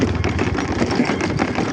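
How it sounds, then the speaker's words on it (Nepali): A scooter engine runs steadily over a rough, broken village road in Nepal, a constant close mechanical drone with bumps and rattles, filling the short stretch without pause. "यस्तो बाटोमा स्कुटर लैजाँदैछु म"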